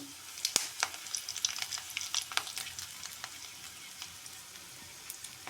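Dried red chillies and tempering seeds crackle in hot oil for a cucumber chutney, with sharp irregular pops and spatters over a steady sizzle, close and fairly loud, no voices.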